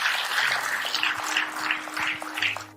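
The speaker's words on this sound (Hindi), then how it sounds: "एक जोरदार तालियां होनी चाहिए।" Applause from an audience at a health awareness program, a crackling burst of clapping in uneven waves, with faint steady tones and low thumps underneath.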